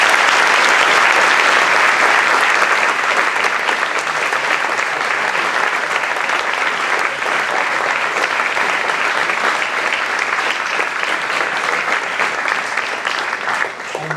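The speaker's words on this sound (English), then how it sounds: "Please, a round of applause for our first speaker." Audience applause for a first speaker at a dean's lecture on the financial crisis, a dense, even wall of clapping that holds steadily throughout with no voices.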